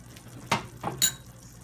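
Prawn malai curry stirred in a pan off the flame before coconut milk goes in, with three short scrapes and a light metallic clink of the spoon, close and brief.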